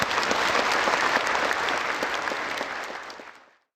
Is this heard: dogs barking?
no